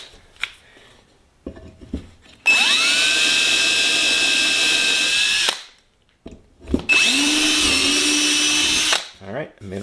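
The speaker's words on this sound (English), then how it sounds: "I should be able to just drill right into the hole on the other side" A power drill bores through an aileron counterweight with cutting oil, running in two long, steady, high-pitched whining passes with a short pause between, loud and close, with faint handling clicks before and after.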